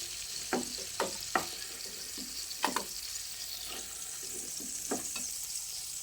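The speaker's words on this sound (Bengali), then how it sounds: "এখন মাছগুলোকে তেল থেকে ছেঁকে তুলে নিচ্ছি" Fried prawns being scooped out of hot oil, a steady sizzle running throughout with several sharp scraping clinks of a slotted spoon against the pan, close and moderately loud.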